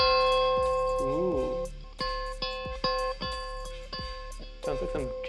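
Irregular bell-like tones played on a guitar ring and overlap, several plucked chimes sounding one after another like clanking wind chimes, each decaying before the next.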